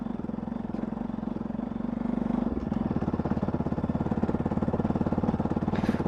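Motorcycle ridden slowly along a dusty off-road track, its engine chugging steadily and close, with the throb quickening as it picks up pace.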